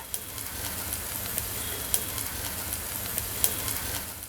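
Salted gravy sautés in a pan with a soft, steady sizzle and a few faint clicks, heard alone without speech.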